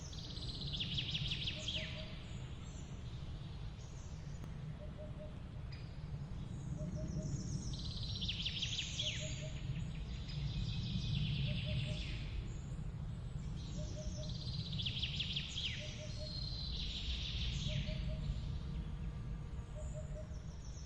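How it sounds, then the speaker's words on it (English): Birds calling in a forest of a Montenegro national park, with repeated bright chirping phrases at intervals over a steady low ambient rumble, moderately distant. "silence reigns, broken only by birdsong and the crunch of footsteps on forest paths"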